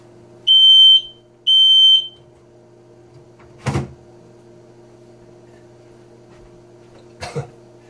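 Two loud, high-pitched electronic beeps from a smoke alarm early on, followed by a couple of brief coughs or throat-clearing sounds against a quiet hum.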